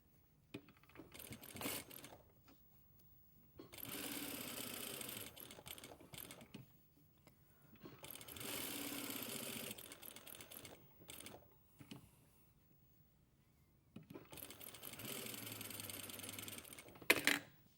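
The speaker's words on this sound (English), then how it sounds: "So we can edge stitch using our compensating foot or our normal presser foot." Sewing machine edge stitching a pocket flap with a compensating or normal presser foot, heard as three long steady runs of machine whirring separated by pauses, fairly quiet and close, with no talk.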